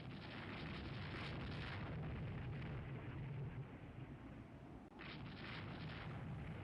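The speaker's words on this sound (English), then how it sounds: "That was a long-range torpedo hit for sure, and I think sank that ship pretty much instantly." Torpedo hit exploding in the naval warfare game Rule the Waves 3, a loud, sustained rumbling blast with heavy low booms that fill the whole stretch, briefly dipping before surging again.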